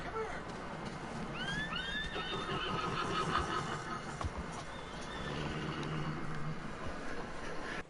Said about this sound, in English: My horse totally just got ran down by the fucking train.